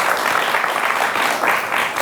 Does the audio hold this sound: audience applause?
yes